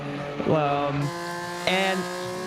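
Simulated race cars in an iRacing video game at Road America's carousel section, engines revving loudly in tonal sweeps, passing close with pitch shifts and a sharp burst as another car rises in.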